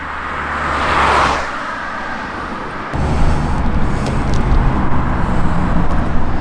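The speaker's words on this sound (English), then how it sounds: "looking at the traffic going up and down here" Steady road traffic rolls past on a street during lockdown, with one vehicle swelling loud and close before a continuous broad rumble of cars and engines carries on through to the end.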